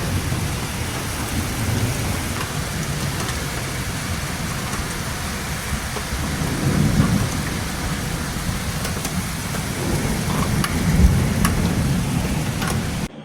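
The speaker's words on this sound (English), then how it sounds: "the thunder's getting very, very roaring" Derecho thunderstorm with heavy rain and roaring thunder, a steady dense hiss of downpour with low rumbling swells of thunder building and fading throughout, loud and enveloping.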